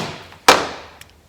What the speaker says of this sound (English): I still have one actually on my DeWalt cordless impact from when I dismantled an IBC tote a few weeks back